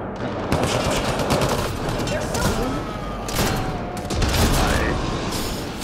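Pistol firing like a shotgun in Mass Effect Andromeda multiplayer, repeated loud blasts in quick succession amid continuous combat noise, with voices talking over the shots.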